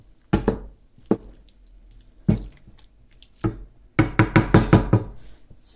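A utensil stirs shrimp in a metal cooking pot, giving loud, close knocks against the pot: a few spaced hits, then a rapid run of clanks at the end.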